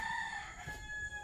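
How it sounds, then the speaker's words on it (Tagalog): Chickens in a yard give a short, faint clucking call, a brief burst of fowl sounds with no talk. "At tumutuka yung mga manok."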